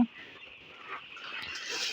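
Seven-day-old broiler chicks in a poultry shed make a continuous high twittering chorus of chirps, steady and moderately loud, with no speech.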